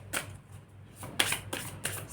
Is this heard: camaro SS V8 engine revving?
no